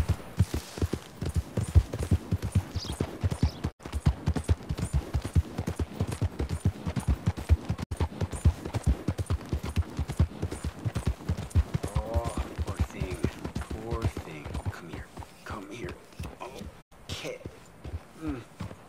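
Horse hooves clip-clop in a steady, brisk rhythm through the Red Dead Redemption 2 video game, loud and close, while other sounds and a voice come in near the end.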